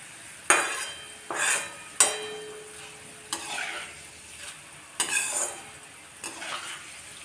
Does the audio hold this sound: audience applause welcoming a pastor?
no